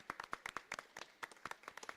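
Audience members clap for students and their families at a high school National Honor Society event, a few pairs of hands making quick sharp uneven claps, faint and close, with no talk.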